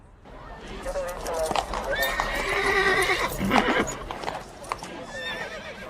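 Horses whinny repeatedly over a steady clatter of hooves, with a busy crowd talking and shouting all around.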